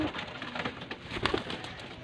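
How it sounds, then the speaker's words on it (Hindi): A Faisalabadi pigeon coos softly in short, repeated throaty calls, close by, with faint rustling underneath. "इन्हें बोलते हैं फैसलाबादी कबूतर भाई जान, ये देखें।"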